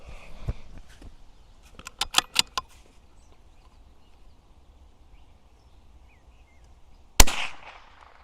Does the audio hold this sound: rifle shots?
yes